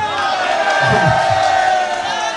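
A large crowd at a PTI rally for Imran Khan's minority convention in Pakistan shouts and chants, a loud, continuous wall of massed voices with rising collective cries throughout.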